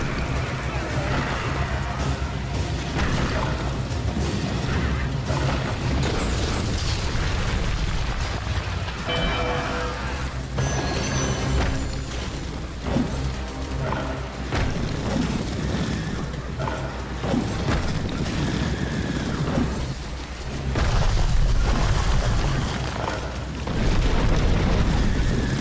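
Dense, continuous battle noise from an Age of Empires castle siege, rumbling booms and crashing impacts layered over a steady roar for the whole stretch, with a louder swell near the end.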